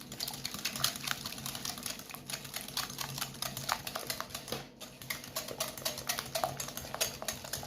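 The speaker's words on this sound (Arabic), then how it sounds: "غادي ناخذ الضراب اليدوي او لا فوي ونضرب هاد العناصر مزيان" A hand whisk beats sugar, vanilla and other ingredients in a bowl, giving a quick, steady run of light clicking and tapping strokes throughout.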